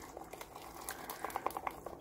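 A small whisk stirs PureCure plaster into epoxy resin in a cup, making soft, quiet wet patter and light bubbling clicks, close and faint, with no voices.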